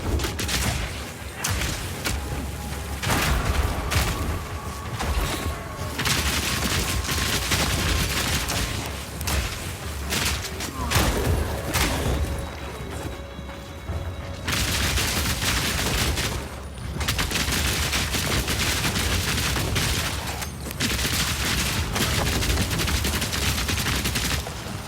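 Rapid grenade launches and blasts from a weapon in the action RPG Path of Exile 2, a dense, continuous barrage of booms and thuds layered over game effects for the whole stretch.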